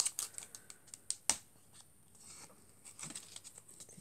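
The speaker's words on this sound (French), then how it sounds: "on vient couper le surplus" Excess material being snipped off an Easter decoration once it has dried, heard as a quick run of close, faint scissor clicks and snips, then a short pause and a few softer, rustling cuts.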